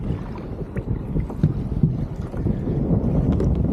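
Strong wind buffeting a microphone on open water during kayak crabbing for blue crabs in shallow water, a steady low roaring rush with gusty thumps that swell and stay loud throughout, no voices.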